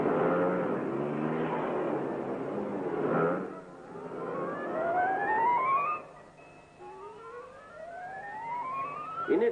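Lambretta scooters and three-wheeler trucks ridden by test mechanics on factory grounds, engines droning and revving as they pass, with rising whines of acceleration and gear changes, some nearer and louder, others trailing off into the distance.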